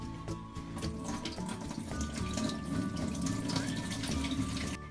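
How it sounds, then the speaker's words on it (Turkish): Water being drained off olives before making brine, a steady close pouring and splashing flow of liquid running continuously through the whole stretch. "Şimdi suyunu süzeceğiz"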